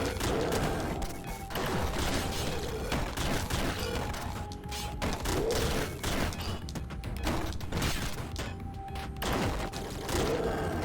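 Rapid gunboot shots in the Downwell video game crackle and smash in a dense, continuous barrage, with game music and effects running throughout.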